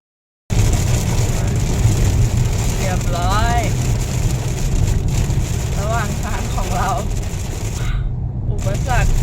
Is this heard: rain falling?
yes